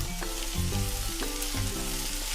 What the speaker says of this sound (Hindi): और 1 मिनट तक इसको भिंडी के साथ भूनेंगे